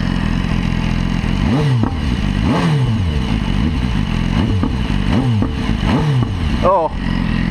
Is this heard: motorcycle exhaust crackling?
yes